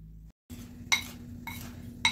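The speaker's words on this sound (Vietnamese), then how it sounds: "Bột khoai tây với bột chiên xù mình trộn lên." Potato starch and breadcrumbs being mixed and mashed in a bowl, with a steady scraping under light clinks of a utensil against the dish, repeated about three times, near and fairly soft.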